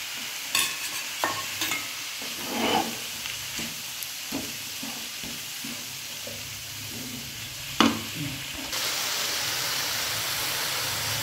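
Soaked dal is tipped into fenugreek frying in a pan, giving a steady sizzle with scraping spoon strokes and clinks, then a louder hiss at the end.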